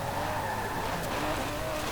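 A large V12 engine roars steadily while revving toward 7,000 RPM in Forza Horizon 4, a continuous loud bellow mixed with some tire noise across the whole stretch.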